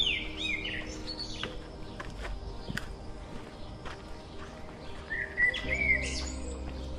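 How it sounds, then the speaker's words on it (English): Birds chirp and tweet on a forest trail at a hill trek, with scattered calls at the start and end, while footsteps crunch quietly along the path underneath. "Listen the chirping of birds."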